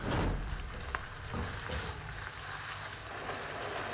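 Chicken frying in a pan on medium flame for restaurant-style fried rice: a dense, loud, continuous sizzle with a few faint stirring knocks, close and steady with no talk.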